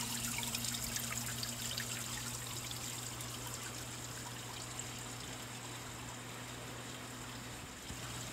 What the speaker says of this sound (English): it has a pump that pumps water up to the grow media